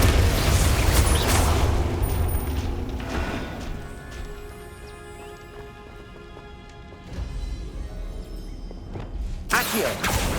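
A Confringo fire spell explodes in the wizarding game Hogwarts Legacy with a loud, booming blast. The rumbling tail fades over several seconds, and a second burst of impact noise comes near the end.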